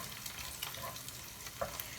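An egg fries in a pan for Maggi mee goreng, a faint, steady sizzling hiss with small crackles and a soft clink or two, quiet and uninterrupted.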